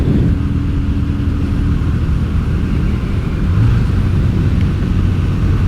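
A Yamaha Virago XV250 bobber fitted with pod filters cruises in fifth gear, its engine a steady, loud low drone under constant wind rush with no break.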